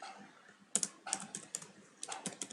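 Code being typed on a computer keyboard for an HTML lesson, with quick bursts of close, crisp key clicks in uneven clusters and short pauses, heard alone with no talking.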